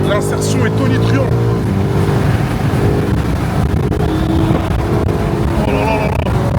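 A BMW M5 Touring's engine roars loudly and continuously as it accelerates to merge into traffic near Marbella, with road and wind noise throughout and a voice talking over the din.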